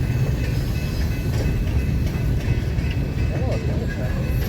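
A freight train hauling coal hopper cars rolls past in Nebraska, producing a loud, continuous rumble with faint metallic clatter and squeal throughout.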